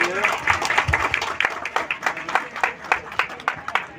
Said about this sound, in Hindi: हम जोरदार ताली बजा करके स्वागत करेंगे।